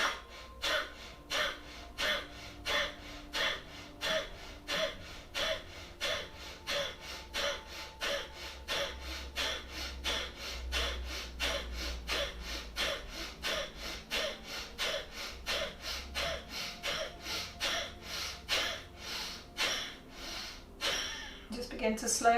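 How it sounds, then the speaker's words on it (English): Deep Ujjayi yoga breathing, a throaty ocean-like hiss repeated in a steady rhythm of long inhales and exhales, close and continuous over more than twenty seconds. "take a nice long deep breath in. Exhale, strong Ujjayi."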